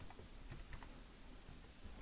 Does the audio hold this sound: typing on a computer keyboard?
yes